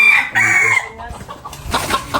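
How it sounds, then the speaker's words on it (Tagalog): Farm chickens, hens and a red rooster, cluck and crow close by in a short burst of overlapping calls with brief pauses between. "Mga manok na inahin at yung mga manok na pula."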